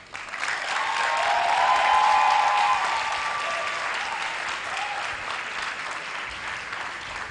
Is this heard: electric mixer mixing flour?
no